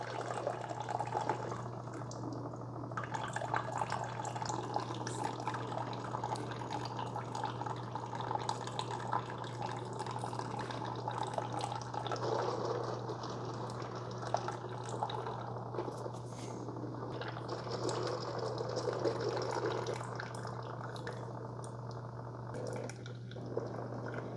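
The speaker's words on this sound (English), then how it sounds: "Coffee looks really good coming out." Coffee streams from a Cuisinart SS-GB1 Grind & Brew Plus maker through a reusable K-cup into a cup, a faint steady trickle and drip over a low machine hum throughout.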